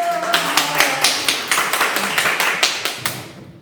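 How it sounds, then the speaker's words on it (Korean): Children applaud at a church Bible class gathering, their claps landing in a brisk, fairly even rhythm for several seconds before trailing off. "와, 박수!"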